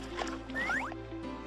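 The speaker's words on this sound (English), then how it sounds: "Drop some ice in. Now stir it up." Ice dropped into a drink and stirred in a kids' flight-attendant video game, heard as short cartoonish sloshing, gurgling swirls and swooping liquid chirps over a steady background music bed.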